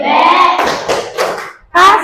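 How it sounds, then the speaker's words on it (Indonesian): Students in a classroom perform the 'tepuk wow' clapping chant, loud clustered claps in rhythmic beats mixed with shouted voices, close by, with a brief pause before a last burst. "Jangan lupa tepuk wow."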